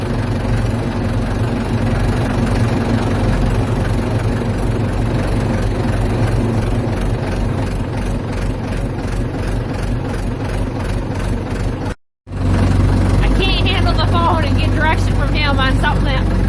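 A Ford 755 backhoe's diesel engine runs at a loud, steady low drone, with a brief cut-out partway through before it continues.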